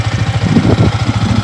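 A Yamaha R15 V3 motorcycle engine idles with a steady, low, rhythmic chugging pulse, close and fairly loud, with no voices.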